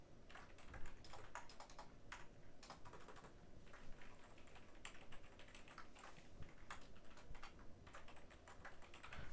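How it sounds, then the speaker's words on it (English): Java code is typed on a computer keyboard in Notepad, a steady run of close, rapid key clicks with irregular rhythm and a few louder taps, continuing alone for the whole stretch. "It's notepad, so you need to type the code."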